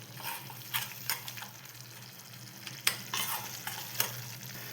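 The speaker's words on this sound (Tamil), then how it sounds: "சூடாக நல்லா சாப்பாடு சேர்த்திட்டு நல்லா இப்படி கிளறி விட்டுக்கணும்." A spoon stirs hot rice in a pan for baby food, giving soft scraping strokes and light clinks in an irregular rhythm over a low sizzle, close and fairly quiet.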